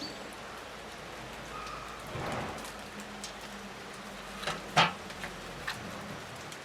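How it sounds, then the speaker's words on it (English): Steady rain falls outdoors during bushcraft fire-starting practice, a soft continuous hiss with scattered drop taps and a few sharper knocks near the middle, fairly faint and heard alone. "It's raining here, guys."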